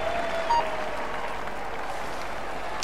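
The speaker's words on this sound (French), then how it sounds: "Allez, on l'applaudit bien fort" Roadside crowd applauding a cyclist on the launch ramp at a Tour de France time trial start, a steady continuous clapping wash at moderate distance with faint tonal beeps near the start.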